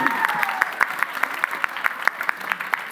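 An audience at a school quiz championship final claps in a quick, regular rhythm, with evenly spaced sharp claps recurring over a faint steady background hum.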